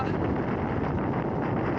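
Strong wind buffets a mountainside in bad weather with rain, near the Pasje sedlo pass in the Slovenian Alps. It makes a steady, loud, roaring gust noise across the microphone throughout, with no pause.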